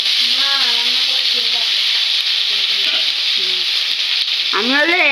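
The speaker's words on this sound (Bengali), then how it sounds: "এই তেলের মধ্যেই আমি আলুগুলো ভেজে নেব" Potatoes frying in hot oil with cumin seeds and bay leaves give a steady, loud, close sizzle that holds throughout, while a voice briefly speaks at the start and again near the end.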